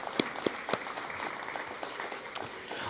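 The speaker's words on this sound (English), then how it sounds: "Let's have a big round of applause for all of our first responders" Fairly quiet applause at an awards ceremony honouring first responders, with a few sharp, distinct claps standing out over a softer spread of hand-clapping.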